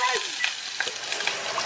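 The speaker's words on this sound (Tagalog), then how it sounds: "Igisa ko muna itong sibuyas" Sliced onion sautés in a hot pan with a steady close sizzle, while a spoon scrapes and stirs in quick light strokes throughout this short moment.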